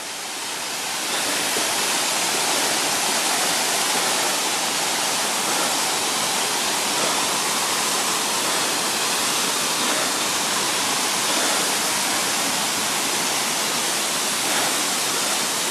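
Roaring broadband rush of a waterfall seen from below, continuous and steady for the whole stretch with no voices over it.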